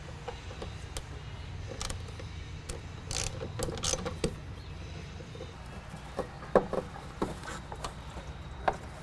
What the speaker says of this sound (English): we're going to be removing these 4 bolts with our Torx